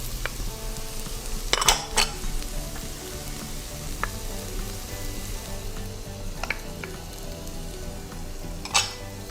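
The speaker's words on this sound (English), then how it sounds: "So just leave those to sizzle in the oil" Vegetables for a beef ragu sizzle steadily in hot oil in a large pan, a continuous close frying hiss broken by a few clinks of a spoon against the pan, with no talking.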